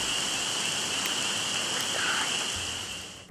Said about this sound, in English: A soft rain falls